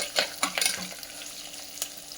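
Mustard seeds and dried chillies tempering in hot oil for rice-rava upma, giving quiet, sharp crackles and pops at irregular intervals over a soft background sizzle.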